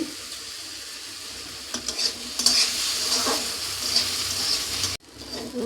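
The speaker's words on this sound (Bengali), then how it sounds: "সেই জন্য আমি কড়ায় হালকা নেড়ে নিলাম" Green peas being stirred as they fry in a kadai, a steady sizzle under repeated scraping strokes of the spoon, close and fairly loud, then a brief cut near the end.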